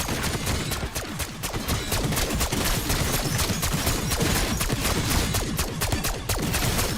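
Sustained, dense rifle fire from a Tsarkov 7.62 in Black Ops 6, loud and close, rapid shots running together across the whole stretch with no talking.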